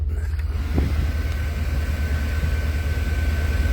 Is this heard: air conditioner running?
yes